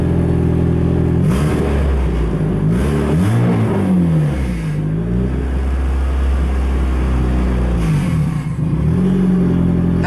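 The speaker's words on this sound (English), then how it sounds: "we'll give it a little rev here" A warmed-up Nissan Sentra with a turbocharged SR20DE engine is revved up close in several rising and falling bursts over a steady idle, with a dip after each rev.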